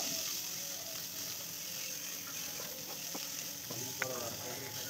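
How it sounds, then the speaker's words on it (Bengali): Greens frying in a pan with chili and garlic tempering, a soft steady sizzle with faint stirring clicks, quiet and continuous. "লঙ্কা আর রসুন ফোড়ন দিয়ে শাকটা ভেজে নিলাম"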